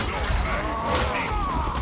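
The Reaper enemy in the video game Darktide gives off a brief burst of heavy mechanical clanking and crashing noise with a rough, metallic texture, close and dense for under two seconds.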